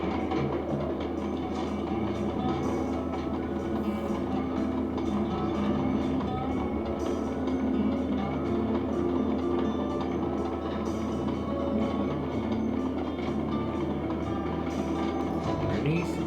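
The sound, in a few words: moving train in the video game Sly 2: Band of Thieves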